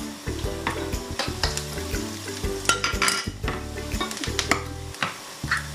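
Canned sardines sauté in a pan for pancit bihon, a steady sizzle with repeated stirring scrapes and clinks of a utensil against the pan, close and fairly loud, with no talking.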